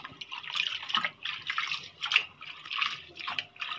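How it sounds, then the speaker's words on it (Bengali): Leafy greens freshly picked from the family's field are washed by hand in water in a home kitchen, with repeated close splashing and sloshing bursts in an uneven rhythm and no talking. "এই যে আমার আম্মু শাক ধুচ্ছে।"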